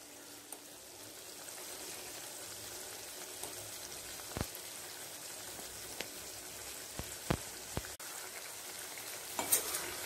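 Small dried vela meen fish pieces are stirred into a masala frying in a pan, giving a soft, steady sizzle broken by several sharp spoon knocks and scrapes, the last ones clustered near the end.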